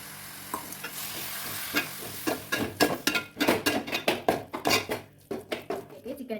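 A spoon scrapes and clanks repeatedly against a frying pan of chicken masala with tomato paste in quick irregular strokes, over a soft background sizzle.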